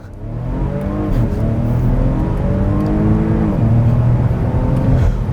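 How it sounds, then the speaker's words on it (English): A 2018 Porsche Macan Turbo SUV accelerates at full throttle from a launch, its engine droning loudly from inside the cabin with rising pitch sweeps across successive gear changes, no talking. "you're gonna floor it all the way and go"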